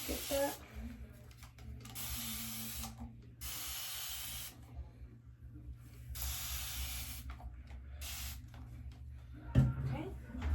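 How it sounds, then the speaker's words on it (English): Two long hissing bursts from a spray bottle wetting hair bangs, each lasting about a second, with a shorter burst later, over low background noise and faint movement. "I have this spray bottle. I'm spraying only the bangs"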